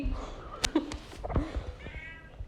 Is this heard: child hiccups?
no